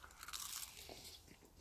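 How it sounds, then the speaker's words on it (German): Crisp crunchy bites into the skin of grilled chicken cooked outdoors in snow, a few close crackling crunches in quick succession with no talking. "Man knuspert die Haut."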